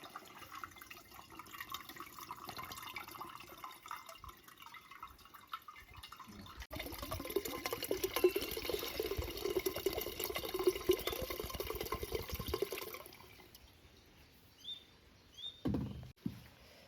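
Tender coconut water from several coconuts poured into a pot for making coconut wine, a close, steady splashing pour that swells in the middle and then tapers into a few faint trickles and clinks.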